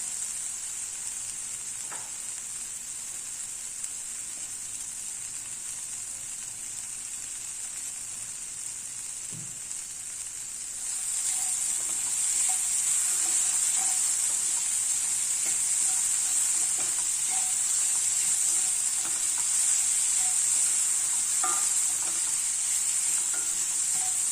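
Chopped vegetables for a masala bun sizzle steadily in a hot pan, a continuous hiss that turns louder and brighter partway through, with occasional soft stirring scrapes.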